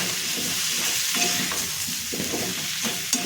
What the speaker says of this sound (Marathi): 2 मिनिटं तेलावरती व्यवस्थित परतून घ्यायचं आहे. ह्याच्यामध्ये मी धणे आणि जिरे पावडर टाकून घेते